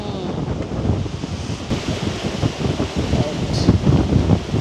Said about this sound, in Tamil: அவ்வளவு காற்றா சரியான காற்று